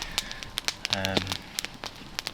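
A campfire in a minimal winter camp in the Scottish Highlands crackles with sharp, scattered pops and snaps from glowing embers. It is close and fairly loud, with a brief hum-like tone around the middle.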